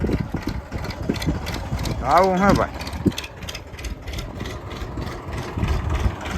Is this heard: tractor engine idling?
yes